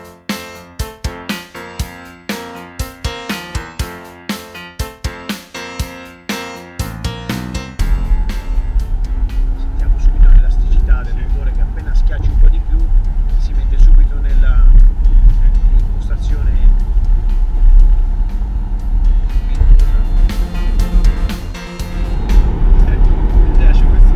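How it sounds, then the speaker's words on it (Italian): A car with automatic gear changes is heard from the road, its engine and exhaust droning loudly and steadily after a stretch of tonal clicking sounds at the start, with a voice talking over it. "senti lo scoppiettio è meraviglioso, meraviglioso"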